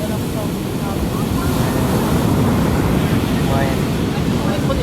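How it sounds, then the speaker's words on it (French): Ocean waves at a beach roar continuously with heavy broadband surf noise and wind buffeting the microphone, loud and close, with faint voices mixed in underneath. "Sérieux, les vagues font un peu peur."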